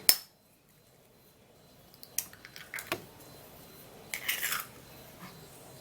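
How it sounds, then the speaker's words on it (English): An egg is cracked open for a coffee under-eye treatment: a sharp knock at the start, then a run of small cracking and shell clicks, ending in a brief flurry of crisp taps and wet squishes. "now we're just going to break in the egg"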